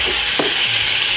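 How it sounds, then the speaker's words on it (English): Liver frying in oil in a pan is stirred, giving a steady, loud hiss of sizzling with one brief scrape of the utensil, close up and without speech. "Alright, give it a stir."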